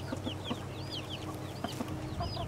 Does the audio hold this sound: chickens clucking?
yes